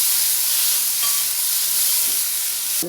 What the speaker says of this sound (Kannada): ಒಂದು ಟೊಮೆಟೊ ಹಾಕ್ತಾಯಿದ್ದೀನಿ ಇದಕ್ಕೆ